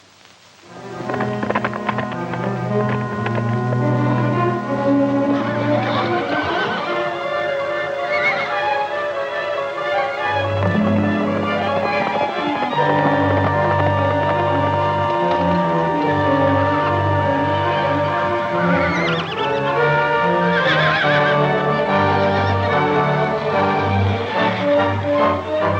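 Horses neigh and whinny, with some hoof clip-clop, in a 1949 Western film set at a canyon rim; sustained, tonal calls ring loudly throughout, heavily layered with a full musical score.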